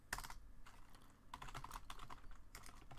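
Computer keyboard typing by a programmer writing C++ code for an SFML Pong game, heard as irregular bursts of close, crisp key clicks with short pauses between them, with no voices.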